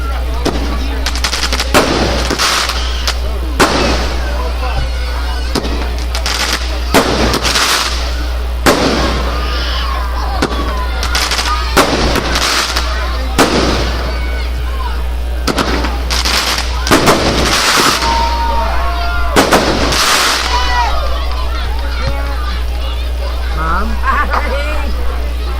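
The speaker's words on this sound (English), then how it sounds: "Listen to the sizzling fireworks" Fireworks crackle and burst in repeated sharp explosions with sizzling between them at an outdoor gathering, loud and irregular, while people talk and murmur throughout.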